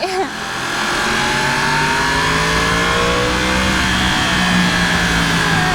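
A high-revving 2020 Yamaha YZF-R1 sport motorcycle engine accelerates hard, its whine rising steadily and staying loud and close throughout.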